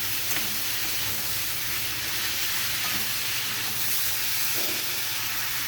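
Chopped ripe tomato is stirred through a sizzling frying pan, a steady hiss and crackle of frying with soft scraping, close and continuous and without talk.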